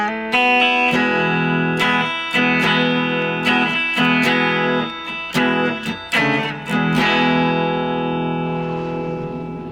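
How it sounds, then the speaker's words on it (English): Clean electric guitar riff from a song, played without overdrive: ringing sustained chords with a repeated rhythmic pattern of sharp attacks and brief gaps, loud and close with a light effects shimmer, no talking. "It's going to sound something like this if you don't have your overdrive pedal engaged."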